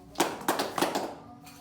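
Hands clapping in an elementary classroom focus game, about five distinct claps in an uneven rhythm, near and fairly quiet, followed by a brief pause.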